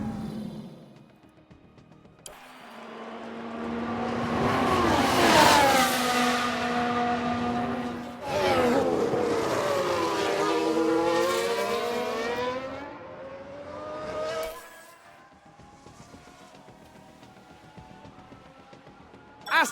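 An F1 car in F1 Manager 22 spinning out, engine screaming and pitch sweeping up and down as it revs and loses control, then fading, with a second burst of revving in the middle.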